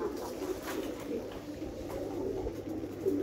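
Pigeons kept in a rooftop coop coo softly and repeatedly in low throaty murmurs, faint against a steady background hum.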